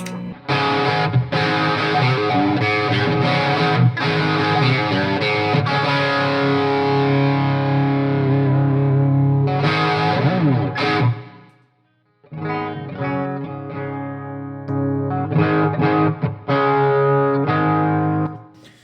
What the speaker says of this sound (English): they all work together great, just you get a lot of distortion with the Karen